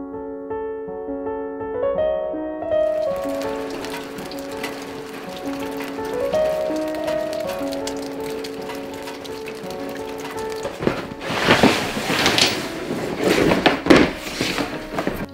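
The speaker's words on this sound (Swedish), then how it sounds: "det började spöregna nu och åskar och blixtrar" Heavy rain during a thunderstorm, first heard behind a melodic tune, then swelling into a loud dense hiss of downpour near the end.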